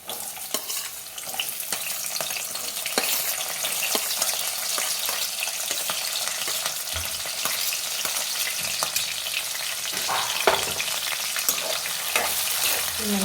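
Sliced onions and green chillies frying in a pan for an aloo tomato curry, with a steady, dense crackling sizzle throughout and a few brief scraping stirs near the end.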